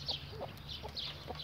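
Brahma hens clucking in a backyard flock, a series of soft, brief clucks repeating every half second or so over a low steady hum, close by and moderately quiet.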